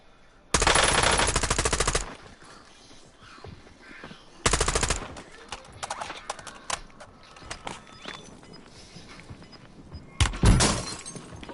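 Machine gun fire in a Call of Duty battle royale match: two long, loud sustained bursts, then scattered shots and clatter, and a final short burst near the end.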